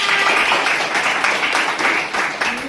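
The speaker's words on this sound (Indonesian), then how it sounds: "kasih tepuk tangan untuk Sampona" A classroom of students applauds a classmate, a dense, continuous wash of clapping at close range, loud and even throughout its short span with no talk over it.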